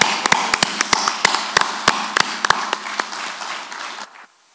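Applause at a concert in Dubai welcoming a singer, heard as loud, sharp, widely spaced claps near at hand over a softer crowd clatter, thinning and then stopping abruptly.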